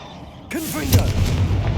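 A Confringo fire spell blast in Hogwarts Legacy, a sudden booming burst that hits hard after a quiet moment, followed by a rumbling tail with a voice briefly over it.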